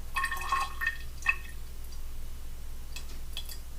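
Water trickles into a small graduated cylinder during a home chemistry test, a brief run of faint high drips and splashes at the start, then near silence before a couple of soft pours later.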